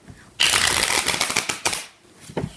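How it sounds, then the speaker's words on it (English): A deck of playing cards is shuffled by hand during a card trick, a loud close riffle of rapid flutters followed by a few shorter snaps and a final brief burst. "let's shuffle them"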